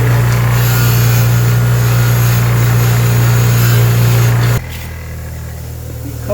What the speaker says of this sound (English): I want it to have a nice solid weld, so put it on the wire wheel